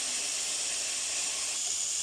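Onion, garlic and carrots fry in hot oil for an olive tagine, giving a steady, close, bright sizzle and hiss that holds evenly throughout.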